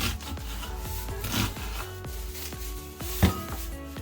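Repeated knife strokes chopping an onion on a cutting board, steady rhythmic chopping close up, with a sharper knock near the end; no talking.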